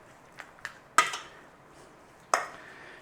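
Softened butter is stirred into a coronation chicken cheesy rice bake. A spoon gives a few light clinks against the dish, then two sharper knocks, with short quiet gaps between them.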